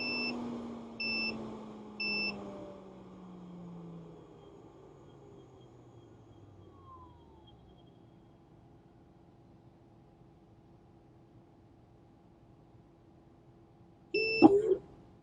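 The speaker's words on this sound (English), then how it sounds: "when your time is up, it's going to give a beep, and then it's going to slow down" An Amino Labs microcentrifuge gives three short, evenly spaced beeps as its spin time ends, followed by the fading whir of the rotor winding down and a louder clunk-like beep burst near the end.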